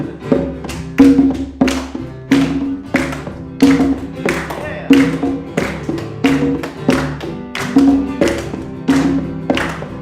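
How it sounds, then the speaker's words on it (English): A congregation claps along to an upbeat song at a service, a steady series of loud, sharp hand claps repeating on the beat for the whole stretch, with singing voices carrying underneath. "Clap your hands."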